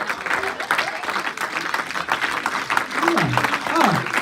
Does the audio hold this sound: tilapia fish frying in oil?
no